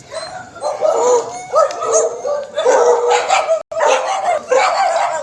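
Several dogs bark loudly and continuously, overlapping yips and barks in rapid bursts with only a brief pause near the end.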